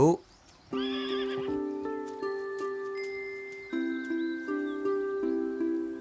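A horse gives a loud, close whinny lasting under a second, followed by sustained tonal ringing and faint bell-like tinkling in a quiet setting.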